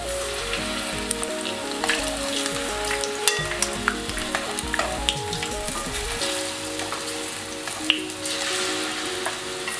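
Steady, close sizzling of sukhiyan, Kerala sweet fritters, frying in hot oil, with crackles and small pops throughout and a few light clinks of a utensil.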